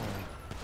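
Gunfire in a GTA 5 roleplay shootout, a dense fusillade of shots running steadily through a brief moment at moderate loudness.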